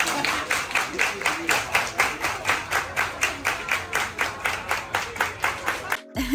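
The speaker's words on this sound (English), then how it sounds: "Everybody clap your hands." A crowd at a silent headphone party aboard the Royal Caribbean cruise ship Freedom of the Seas claps hands in unison, a loud steady rhythm of roughly three claps per second that stops abruptly near the end.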